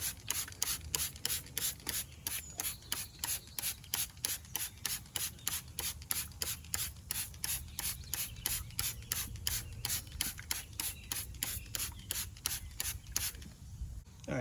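Wheel cleaner sprayed onto car wheels in a long run of quick, evenly paced trigger-sprayer hisses, close and steady, with a short pause near the end and no talking.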